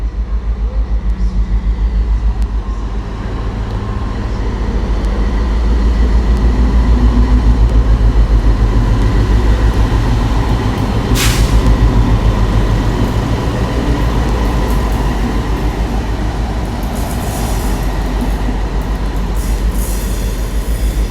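A DB Class 60 diesel locomotive, 60062, passes through Newport station, a loud sustained rumble of engine and rolling wagons lasting about twenty seconds, with a brief high squeal midway.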